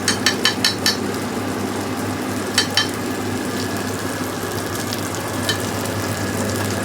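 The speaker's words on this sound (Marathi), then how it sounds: "थोडंसं त्याला तेल फुटायला पाहिजे, म्हणजे थोडंसं वाटप भाजला ना मसाला चांगला" Ground masala paste fries in oil with a steady, close sizzle, broken by a quick run of sharp metallic taps and scrapes from stirring at the start and a few more later.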